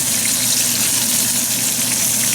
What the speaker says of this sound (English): then we'll turn it over and fry it on the other side